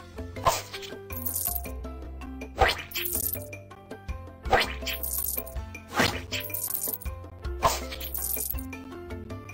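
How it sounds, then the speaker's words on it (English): Watermelon slicing in a children's cooking game, heard as four evenly spaced bright crunchy chops with chiming game effects and a soft looping music bed. "First, pick up some watermelon. Let's have some fun and slice it."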